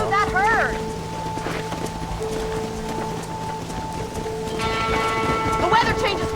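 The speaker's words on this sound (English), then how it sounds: "This storm came out of nowhere." Thunderstorm with steady rain in the Western video game Red Dead Redemption, continuous loud downpour with low rumbling, under game music and spoken voices throughout.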